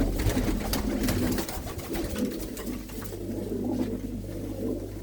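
Pigeons in a loft coo with low, rolling calls that repeat over a steady hum, moderately close and unaccompanied by speech.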